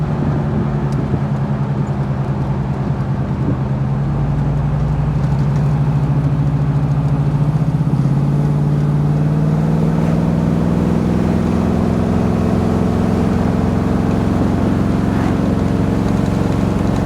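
A 1969 Chevrolet Camaro SS convertible cruises at about 60 mph, its engine droning steadily under loud, constant road and wind rush, the pitch shifting slightly as it holds speed.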